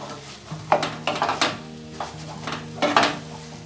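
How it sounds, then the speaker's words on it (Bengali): Cauliflower-leaf mash stirred and mixed in a wok, giving a run of knocking scrapes and clatters from the utensil against the pan with a faint sizzle underneath, close and moderately loud. "এবার এটা আমি সব কড়ার মধ্যে দিয়ে দেব দিয়ে এটা সম্পূর্ণ মিশিয়ে নেব"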